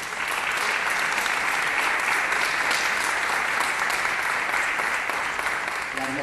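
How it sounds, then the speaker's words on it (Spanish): A crowd at a presentation of a television series applauds continuously, a dense, steady wash of clapping that stays even from start to finish at moderate distance. "encabezado por Nicolás Furtado, a quien pido un aplauso."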